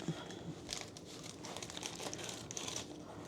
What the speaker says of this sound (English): Craig, we need to open this thing of glaze and put it in this bowl.